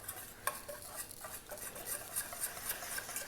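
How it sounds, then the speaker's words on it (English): A miso marinade whisked in a large bowl gives a quick, continuous run of light metallic ticking and scraping, close and quiet, with no talk. "we're just going to whisk this all together"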